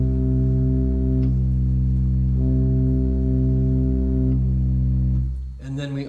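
Church pipe organ at the First Congregational Church of Walpole, New Hampshire, with 8-foot and 4-foot stops playing together: sustained chords held for several seconds, changing once, then cut off as a voice begins speaking.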